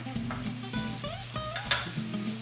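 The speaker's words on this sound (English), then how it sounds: "As it's sauteing, the onions and pancetta" Onions, pancetta and celery sauté in olive oil in a pan, a soft steady sizzle broken by occasional light scraping and clinks of a utensil, faint and close.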